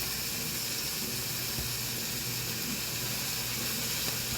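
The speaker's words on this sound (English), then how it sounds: "I'm going to go ahead and throw it in to this skillet with the peppers" Steak strips sizzling in a hot skillet with peppers for fajitas, a steady broadband hiss holding even and close throughout with no talk.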